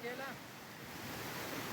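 Rushing water from a lush green waterfall, a steady broadband roar with a faint voice near the start.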